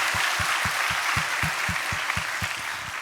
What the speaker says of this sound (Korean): 감사 박수 올려드리겠습니다.